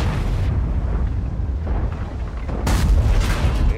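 A heavy IS-7 tank cannon blast booms out in World of Tanks, followed by rumbling noise, then a second loud burst of sharp, crackling impact noise near the end.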